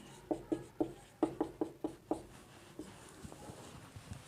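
Marker or chalk writing on a board, a series of short scratchy strokes in quick rhythmic bursts up close, trailing into fainter, sparser strokes.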